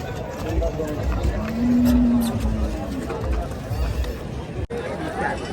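A pair of farmers' bulls at a cattle market in Deulgaon Raja give a brief low moo amid a busy hubbub of voices, engines and market noise.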